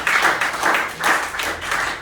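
A church congregation at a worship service claps together in a brief, loud burst of applause, a dense rhythmic patter of many hands.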